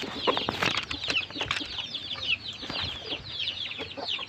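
Chickens and chicks in a crowded coop, with busy overlapping high peeps and clucks, near and fairly loud, plus brief wing flaps and scuffling throughout.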